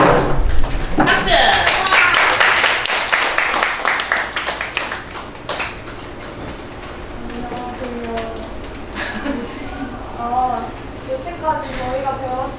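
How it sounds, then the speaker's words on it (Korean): A classroom of students claps in a burst of loud applause lasting several seconds, which then fades as a voice begins speaking. "박수!"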